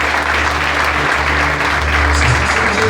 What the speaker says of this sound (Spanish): para quien también pido un fuerte aplauso